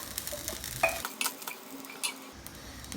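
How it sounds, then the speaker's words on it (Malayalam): A spoon stirs Kerala chickpea curry (kadala kari) in an oily pan, a few scraping and clinking strokes against the metal over a faint sizzle, close and fairly quiet, with no voices. "നന്നായിട്ടൊന്ന് മിക്സ് ചെയ്യാം."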